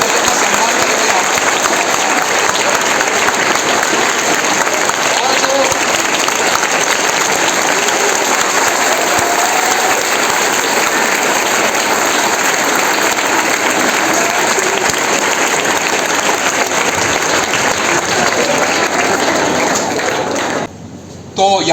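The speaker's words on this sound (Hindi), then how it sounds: "जोरदार तालियां हिमांशु मंगल का सम्मान करेंगे आप" Sustained, loud applause from a school audience honouring an IAS rank holder at a ceremony, continuous dense clapping that runs for about twenty seconds without a break, with a faint murmur of crowd voices underneath.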